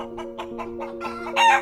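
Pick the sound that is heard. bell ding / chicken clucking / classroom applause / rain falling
chicken clucking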